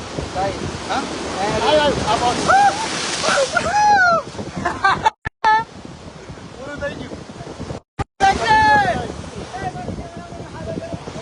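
Sea waves surge and splash at the shore in Dwarka, with loud broadband wash and wind buffeting the microphone, while several people shout and talk excitedly over the noise; the sound briefly cuts out twice.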